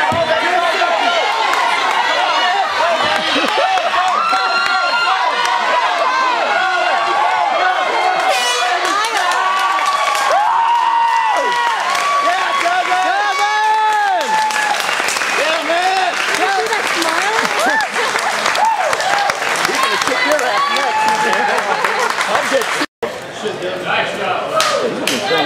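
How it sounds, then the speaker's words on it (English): A boxing fight night crowd cheers, whistles and claps loudly and continuously, with lively shouting and chatter mixed in and an air horn blaring partway through. "A round of applause for the two Warriors of the Ring!"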